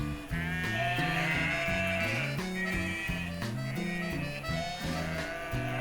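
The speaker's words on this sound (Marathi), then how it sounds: "जसं काही मी कोणत्या तरी खेड्यात आहे आणि मेंढ्यांचा आवाज" Sheep bleat on a hillside above a village in Germany, many wavering calls overlapping in a continuous, fairly loud chorus nearby.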